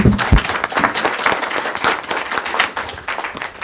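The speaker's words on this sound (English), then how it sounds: "How about a round of applause for our panel?" An audience at a panel event breaks into sustained applause, dense clapping filling the room steadily throughout, with no talk over it.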